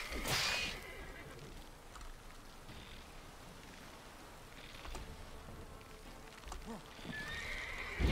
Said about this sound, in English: You're attacking my horse.